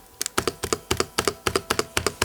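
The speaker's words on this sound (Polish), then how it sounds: "to, co zasługuje naprawdę na uwagę, to to, jak cicha jest spacja" Someone types steadily on a quiet mechanical keyboard, producing a close, even rhythm of soft paired clacks, roughly four or five keystrokes per second, with no other sound.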